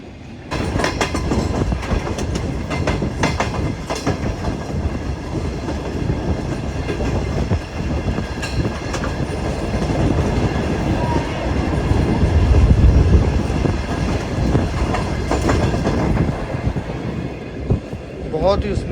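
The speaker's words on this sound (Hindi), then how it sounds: "बहुत ही स्मूथली और प्यार से ट्रेन ने स्किप किया है लानी जंक्शन को" The Shah Hussain Express rolls steadily along the tracks between Karachi and Lahore, a loud continuous rumble with rhythmic clicking wheels and rattling carriages at close range.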